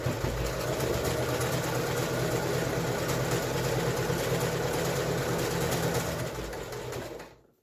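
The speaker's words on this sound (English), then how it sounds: "put your foot down, and then sew to the next corner" A sewing machine runs steadily at speed, stitching fabric ties onto a face mask, with a continuous close whirring hum that slows and stops at the end.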